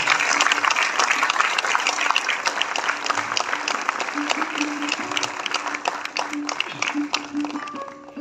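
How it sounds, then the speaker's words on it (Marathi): An audience at a lifetime achievement award felicitation for film actor Mohan Joshi claps in a sustained, dense round of applause that slowly tapers toward the end. "याहीपेक्षा जोरदार टाळ्या झाला पाहिजे"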